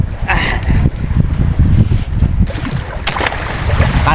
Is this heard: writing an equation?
no